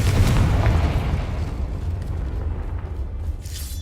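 A Confringo blasting spell goes off in Hogwarts Legacy on PS5, giving a loud, close, low booming burst that decays into a rumbling tail over a few seconds.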